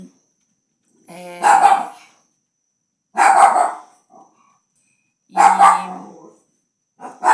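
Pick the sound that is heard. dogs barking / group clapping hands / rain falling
dogs barking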